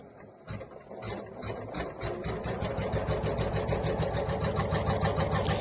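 An embroidery machine stitches with cerulean thread in a fast, steady mechanical rhythm, the close whirring and tapping building slightly in loudness and running alone without speech.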